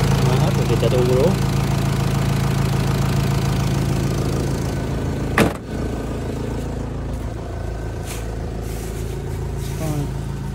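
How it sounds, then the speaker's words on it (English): A Renault Trafic 1.9 dCi diesel van engine from 2004 idles steadily with a low, even rumble throughout, while people talk over it and a brief knock sounds midway. "This engine sounds healthy."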